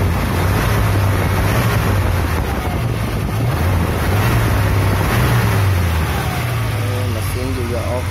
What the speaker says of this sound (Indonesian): Oke, kita cobain gas mesinnya.